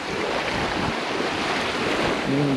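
Waves meet over the Palad sandbar in Marinduque, producing a steady, loud wash of surf with wind buffeting the microphone throughout and no talking.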